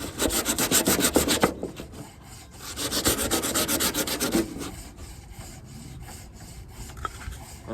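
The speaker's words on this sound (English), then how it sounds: "use a sanding block if possible, and a mask." Hand sanding with a sanding block, giving a steady, close, raspy scrubbing in long bursts of back-and-forth strokes, with short pauses between passes and no talking.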